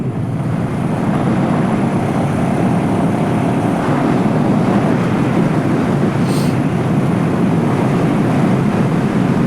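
Strong wind roars steadily across the microphone while someone rides a Super Cub motorcycle on surface streets, a loud, continuous buffeting rumble that fills the whole stretch with no talk.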